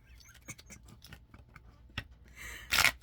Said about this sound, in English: Did I shuffle these cards 7 times?